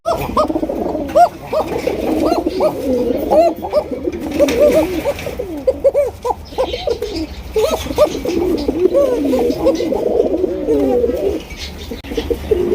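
Many pigeons coo together at a pigeon farm, overlapping throaty calls rolling continuously up close for several seconds.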